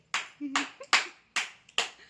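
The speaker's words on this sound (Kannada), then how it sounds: "ಚಪ್ಪಾಳೆ" Hands clapping at a 20th anniversary celebration at home, five sharp, evenly spaced claps close by with a short spoken sound between them.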